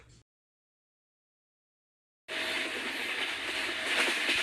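Near silence suddenly gives way to the loud, steady rumble and rattle of a train running close by, continuing to the end.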